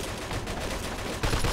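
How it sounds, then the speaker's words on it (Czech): Gunfire in the video game Mafia 2, a dense burst of shots that turns louder and heavier partway through, with no talk over it. "Ou, střílí."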